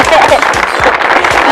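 A studio audience on an Indonesian junior and senior singing show claps in a dense, steady patter, with people talking over the applause.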